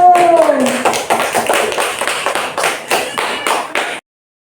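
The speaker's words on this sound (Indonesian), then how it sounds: "Silakan beri tepuk tangan untuk kelompok 1." A classroom crowd breaks into applause, a dense patter of many hands clapping for about four seconds before it suddenly stops.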